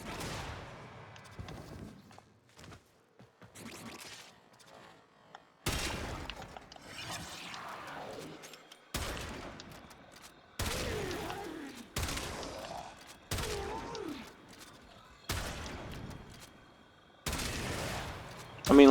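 Sharp gunshots from the Primed Chamber sniper rifle in the game Warframe, single loud cracks fired one at a time with long decaying tails and pauses between them, with someone talking under some of the shots.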